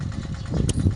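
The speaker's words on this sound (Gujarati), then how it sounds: "એક જ હરખું ટ્રેક્ટર હાલ્યું જાય છે" A tractor driven through a peanut field sown in four-tine rows gives a steady, close, low engine rumble, with a short hissing burst partway through and no talk.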